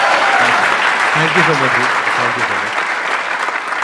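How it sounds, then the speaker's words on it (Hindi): An audience claps loudly and steadily throughout while someone speaks briefly over the applause. "उनके लिए जोरदार तालियां।"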